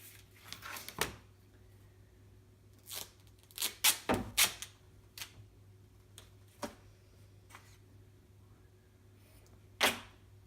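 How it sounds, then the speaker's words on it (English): Duct tape pulled off the roll while covering a foam board fabric box, several short ripping bursts close by in quick clusters separated by quiet pauses, faint and intermittent. "Okay, so get some duct tape out."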